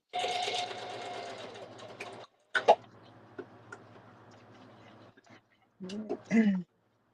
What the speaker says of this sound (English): I think I'll zigzag on that bad boy.